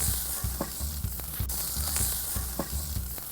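Burger patties sizzling on a hot grill, a steady close crackle and hiss with soft rhythmic scraping or ticking pulses running throughout, no voices.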